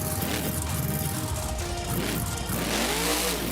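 Gravedigger 35th anniversary monster truck in the BeamNG video game, its engine revving loudly and continuously as it pulls a wheelie, with broadband roar and shifting engine tones throughout.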